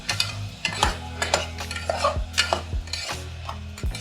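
A spoon stirs and scrapes food sautéing in a pan, with a light sizzle under irregular close knocks and scrapes, about a dozen strokes.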